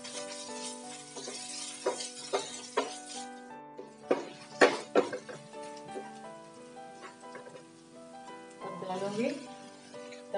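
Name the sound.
onion, garlic and ginger cooking in a pan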